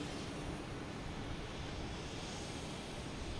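A JetBlue Airbus A321 jet arrives at Boston Logan Airport, its engines a steady broad roar that fills the whole stretch at even loudness.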